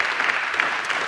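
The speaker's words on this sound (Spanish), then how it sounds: "Damos un aplauso al Señor por eso." A church congregation applauds to honor God, giving a brief, dense burst of clapping that runs steadily from start to finish.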